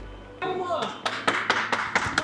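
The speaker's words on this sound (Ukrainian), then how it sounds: "Оплесками підтримуємо" A small crowd at a tool store opening and prize giveaway claps in a run of sharp, roughly regular hand claps, following a brief voice at the start.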